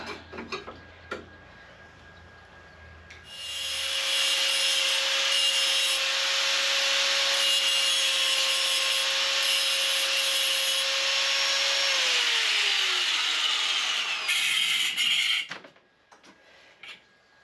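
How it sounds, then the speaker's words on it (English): A power saw cuts a 30mm metal bar for a cross brace on a Suzuki GS500 motorcycle, a loud steady whining grind that spins up, runs for roughly ten seconds, then winds down and stops, with no talking. "I've cut myself another 30mm piece of bar"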